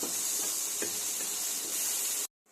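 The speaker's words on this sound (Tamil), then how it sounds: "பெரிய தக்காளி ரெண்டு போட்டு கருவேப்பிலை போட்டு இப்போ வதக்கிட்டு இருக்கிறேன்" Onion, green chilli, tomato and curry leaves sauté in hot oil in a kadai, giving a steady close hiss and sizzle with a few soft stirring knocks before a sudden cut.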